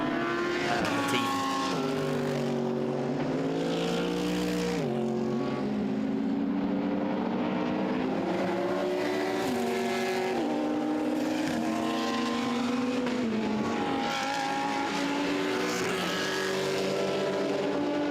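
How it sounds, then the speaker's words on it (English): Touring and GT race cars, including a Porsche, lapping the Hungaroring during an endurance race, several engines droning and shifting pitch together as they pass, loud and continuous at moderate distance. "There is Franz Lahmer in his Porsche, prepared by Kogelbauer Motorsport, that has brought multiple cars to Hungary."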